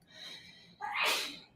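A single child's sneeze bursts out sharply near the microphone after a brief quiet breathy lead-in, loud and close, in an indoor crafting setting.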